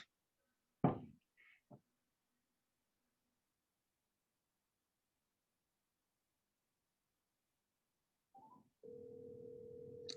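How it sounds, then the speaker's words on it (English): A telephone call ringing out through a laptop speaker, a steady electronic ring tone starting near the end after a few faint knocks and clicks, otherwise quiet with no talking. "I can hear the phone ringing"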